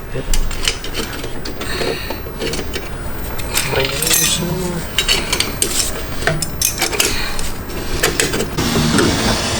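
Metal clinks and ratcheting clicks come from tightening the clamps on an Eisenmann Race exhaust being installed on an E9X BMW M3, with irregular close tool and pipe noises and faint voices in the background.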